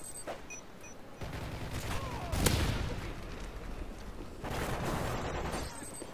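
Gunfire in the Modern Warfare 3 video game crackles in rapid bursts of shots, with one sharp, louder report near the middle and further volleys trailing off.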